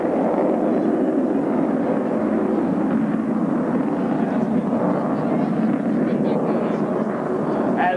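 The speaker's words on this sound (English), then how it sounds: "the smoke comes on as Captain Waters calls for the selection of afterburner by the 4 Diamond pilots" Four Blue Angels Navy jets in diamond formation light afterburners while pulling up into a loop at a 1996 air show, a sustained, rumbling roar from a distance mixed with wind buffeting.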